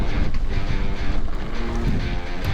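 Wind gusting hard across the microphone on an open sandy road trip spot, a loud continuous rumbling buffet with fluctuating gusts and faint rustle beneath.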